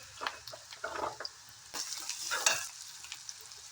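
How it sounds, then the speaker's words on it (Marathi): Two onions roasting with turmeric in a pan, crackling and sizzling close by while a spoon scrapes and stirs in bursts, with a louder sputter near the middle. "छान असे भाजून घेऊ"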